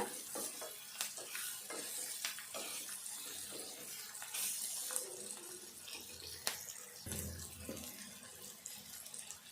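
Ivy gourd (dondakaya) and vegetables frying in a pan with a continuous soft sizzle, broken by frequent scraping stirs and light clatter of a spatula, close and moderately quiet, no speech.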